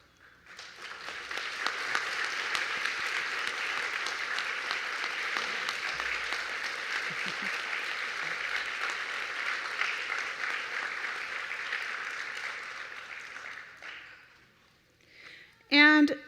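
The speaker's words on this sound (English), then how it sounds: "thank you with a round of applause" Sustained audience applause at an adult basic education graduation ceremony, a dense steady clapping from a large crowd lasting over ten seconds before tapering off, followed by a brief voice.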